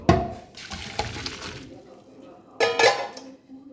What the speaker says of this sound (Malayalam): നമ്മൾ കോളിഫ്ലവർ നല്ല തിളച്ച് വന്നിട്ടുണ്ട്. നമുക്കിതൊന്ന് ഡ്രെയിൻ ചെയ്തെടുക്കാം.